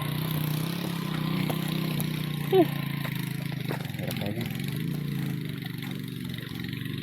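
A motorcycle engine runs steadily at a mid pitch on a ride toward a hilltop gate, a continuous drone with a brief clatter partway through.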